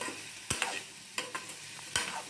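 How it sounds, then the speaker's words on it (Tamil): A spoon scrapes and taps through grated coconut and tomatoes in a pan, with the heat just turned off, while cooking a lima-bean kuzhambu. About five sharp, close stirring strokes come at irregular intervals over a quiet background. "இப்போ தேங்காய் தூள் கொஞ்சம் நறுக்கி போட்டுட்டு அடுப்பை ஆஃப் பண்ணிவிட்டு கிளறி கொடுத்துக்குருவோம்"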